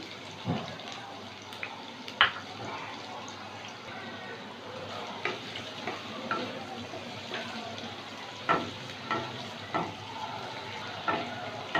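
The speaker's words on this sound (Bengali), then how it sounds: "এই তেলের মধ্যে খানিকটা রসুন কুচি, খানিকটা আদা কুচি দিচ্ছি" Chopped garlic and ginger frying in hot oil for bone-in chili chicken, giving a steady soft crackle over a constant hiss, with scattered sharper pops and spits close by.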